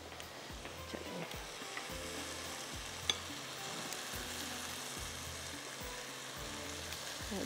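Fish pieces frying in a pan of hot oil with spices and fenugreek seeds, giving a steady, dense sizzle with small crackles and occasional soft clinks, close and alone without any talk.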